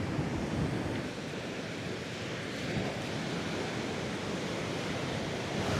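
Surf rolls onto the shore at Tegal Kamulyan beach in a continuous, loud wash of breaking waves mixed with steady wind noise, with no talking.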